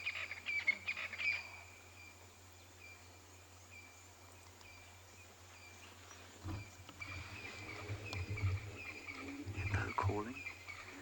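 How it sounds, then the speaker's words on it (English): Deep grunting bellows of a hippopotamus rise in a series of low, rolling honks in the distance, with birds chirping faintly throughout, in an African game reserve in the afternoon. "Hippo calling."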